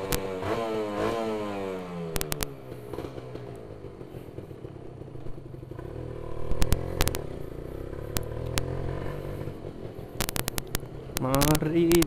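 A motorcycle left unridden for a week runs, idling and revving unevenly with clattery bursts, close up, while a person talks over it.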